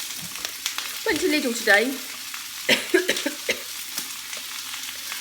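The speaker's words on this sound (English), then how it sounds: "2 onions and a big fat clove of garlic. Just going to cook that for a couple of minutes" Two onions and a big clove of garlic frying in a pan, a soft sizzle with scraping stirring strokes, under a voice talking.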